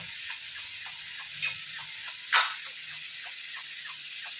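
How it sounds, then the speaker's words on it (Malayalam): Steam hisses steadily from a puttu steamer while onion puttu cooks, a soft continuous rush with faint intermittent ticks and a brief louder puff midway, heard alone without talking. "കുത്തുകുത്തിയിൽ ആവി വന്നിട്ടുണ്ട്"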